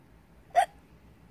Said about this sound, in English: He had hiccups.